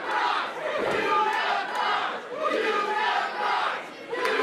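A wrestling crowd at a tornado tag team match chants in loud, rhythmic swells that rise and dip several times, a dense wall of voices filling the arena.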